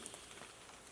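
Rain patters steadily on surfaces around a bushcraft camp, a faint, even wash of soft drops with no voices in the brief stretch.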